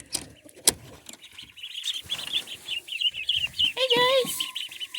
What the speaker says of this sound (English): Rooster chasing the chicken.